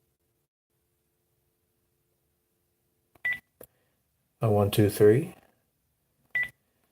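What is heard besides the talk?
telephone keypad beeps, DTMF dialing tones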